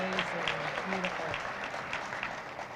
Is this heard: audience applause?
yes